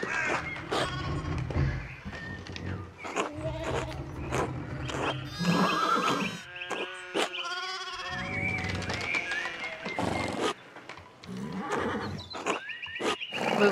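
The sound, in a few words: horse neighing and hooves in video game Pentiment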